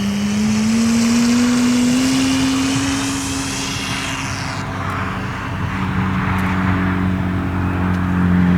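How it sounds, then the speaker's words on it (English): A Phoenix Waco radio-controlled scale model biplane flies overhead with a steady propeller engine drone that rises in pitch then settles, loud and continuous with no talking, at a New Year's Day RC club fly-in. "let's have a beautiful scale flight with our Phoenix Waco"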